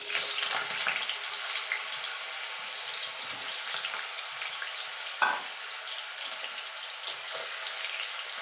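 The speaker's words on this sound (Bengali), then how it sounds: "এবার আলুটাকে ভেজে নেব।" Sliced potato frying in hot oil on a home stove, a steady close sizzle and crackle that runs unbroken, with a couple of brief clinks and no talking.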